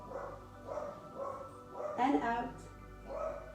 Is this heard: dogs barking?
yes